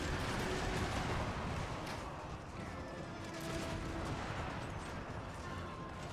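Gunfire from the strategy war game Imperial Destroyer: a dense, continuous crackle of massed shots and rumbling blasts, steady and fairly faint, with no distinct single reports and no talking.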